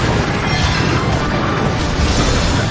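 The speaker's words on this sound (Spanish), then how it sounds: "Una buena explosión." A big explosion in the video game Hyrule Warriors: Age of Calamity gives a dense, roaring blast of broadband noise that stays loud and steady for the whole short stretch.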